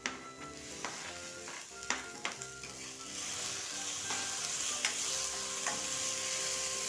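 Tomato added to sautéing onion in a pan, with several sharp spatula scrapes and clacks over a sizzle that rises into a loud, continuous frying hiss.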